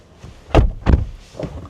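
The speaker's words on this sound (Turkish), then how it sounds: "şöyle bir kapıyı da kapatayım" A Mercedes car door swings shut with a solid thud, followed by a second heavy thump and a fainter rattle, close by with no talking.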